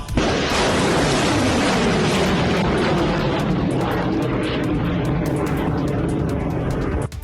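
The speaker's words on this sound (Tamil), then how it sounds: "120 கிலோமீட்டர் தூர இலக்கை துல்லியமாக தாக்கும் பினாகா ராக்கெட் வெற்றிகரமாக சோதிக்கப்பட்டது" Pinaka rocket test launch, a loud continuous roaring blast that fills the clip from start to finish without letting up, with a broad rushing hiss and low rumble throughout.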